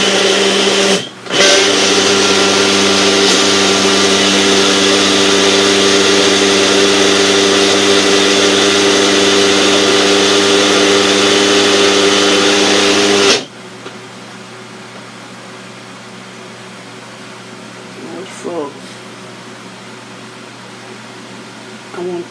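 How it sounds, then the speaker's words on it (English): A Mainstays personal blender whirs loudly and steadily as it blends a fruit smoothie, a constant motor drone that cuts off abruptly, leaving quiet room sound with faint brief noises afterward. "Taking a long time to blend up this little stuff."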